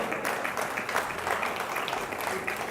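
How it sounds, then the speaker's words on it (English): Audience applause at the NDTV Indian of the Year awards ceremony honouring Shanno Begum, a dense, steady wash of clapping from a large crowd that holds at an even level for nearly three seconds. "A huge round of applause for her."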